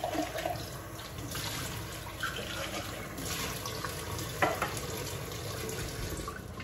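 Running kitchen tap water splashing steadily as something is rinsed under it, a continuous close wash with a few brief clinks and handling noises, no talking.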